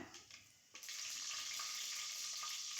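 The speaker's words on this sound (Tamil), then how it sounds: "கொஞ்சமாக சோம்பு போட்டுக்கிறேன் இது நல்லா பொரிஞ்சு வரட்டும்" Fennel seeds and green chillies frying in hot oil give a steady, bright sizzle that swells after a brief lighter crackle, continuous and fairly close without any voices.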